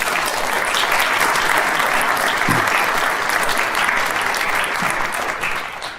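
Audience applause welcoming the speaker Manchán Magan at an ARINS talk, a steady, dense clapping from a crowd that fills the whole stretch and tapers slightly at the end.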